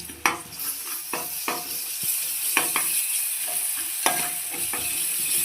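Onion with ginger garlic paste sizzles steadily in a pan, broken by a string of sharp clacks and scrapes from a spoon stirring at an uneven pace, close and fairly loud.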